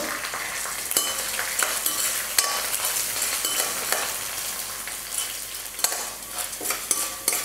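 Lentils, garlic and chillies fry in a pan with a steady close sizzle, while stirring scrapes and clinks of a utensil against the pan come through every second or so; no one speaks.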